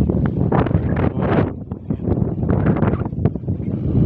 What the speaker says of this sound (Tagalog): Sobrang lakas naman ng hangin.